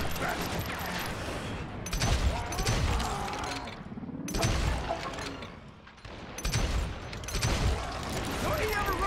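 Gunfire in the Call of Juarez Western shooter game, a dense fusillade of shots in three loud waves over a low rumble, mixed with voices talking.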